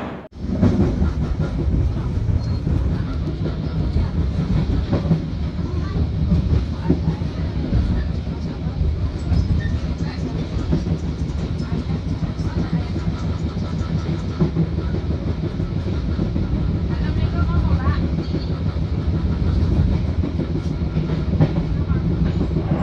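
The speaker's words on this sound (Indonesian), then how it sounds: "kereta Matarmaja udah berangkat dari stasiun Semarang Tawang Jateng" The Matarmaja economy train rumbles steadily with a continuous heavy roar and faint rhythmic clatter of wheels on the rails as it moves off from Semarang Tawang station, Central Java.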